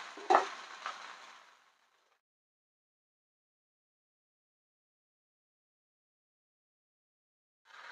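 Vegetables for karadai bhaji hit hot tempering oil spiced with red chili powder and asafoetida. A brief burst of sizzling and stirring lasts under two seconds, then near silence follows until a faint sizzle returns at the end.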